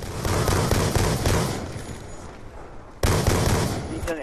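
Rapid AK rifle gunfire aimed at zombies in a shooting video game, dense close bursts that ease off briefly then resume sharply, with faint talk mixed in.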